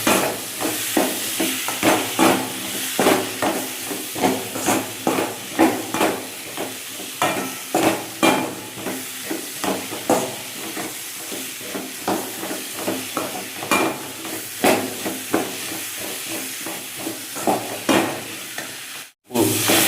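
Small siru kizhangu tubers sauté in a pan with a steady hiss and sizzle, broken by repeated scraping and stirring strokes in an irregular rhythm, close and fairly loud, with no voices.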